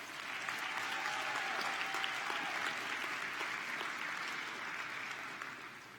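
An audience at a state FFA convention gives a sustained round of applause for volunteers, dense even clapping filling the hall and tapering slightly at the end.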